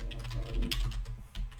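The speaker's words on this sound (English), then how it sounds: "start writing properly on my keyboard" Quiet, quick typing on a computer keyboard, soft key clicks in an irregular run over a steady low hum, no voices.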